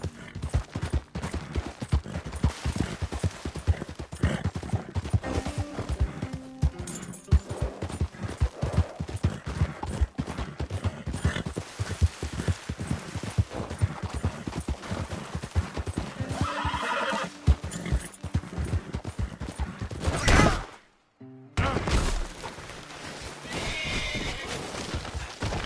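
In a PS4 video game, a horse gallops with rapid, steady hoofbeats and whinnies loudly, with game effects around it. Near the end the sound drops out briefly, then resumes.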